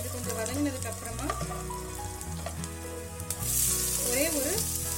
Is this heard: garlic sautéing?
yes